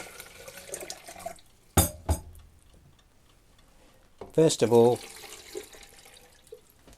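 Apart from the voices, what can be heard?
water running to rinse film developing tank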